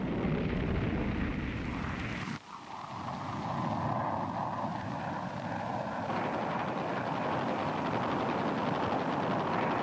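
Fighter bomber air attacks around the Khe Sanh base: a loud, sustained roar of aircraft and explosive rumble that drops briefly, then swells back into a dense, continuous wall of noise.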